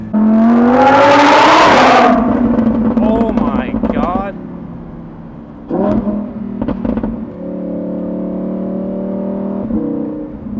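A loud, high-pitched Lamborghini Huracan EVO V10 with a RYFT exhaust revs hard for about two seconds, then settles into lower idling and shorter blips while a person exclaims over it.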